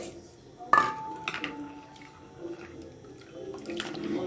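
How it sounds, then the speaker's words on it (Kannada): Flattened rice, poha, being washed in water in a bowl, with soft sloshing and splashing and a sharp clink of a vessel near the start, close and fairly quiet, followed by a few more gentle swishes. "ಅವಲಕ್ಕಿಯನ್ನು ಸ್ವಲ್ಪ ಹೀಗೆ ನೀರಲ್ಲಿ ಚೆನ್ನಾಗಿ ತೊಳ್ಕೊಳ್ಬೇಕು"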